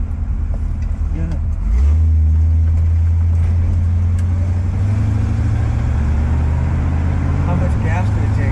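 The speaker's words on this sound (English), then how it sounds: "Smooth running engine though" A Chevrolet Nova with a carburetor runs steadily while driving, its low engine drone heard from inside the car, rising in pitch after a couple of seconds and holding a smooth, even hum.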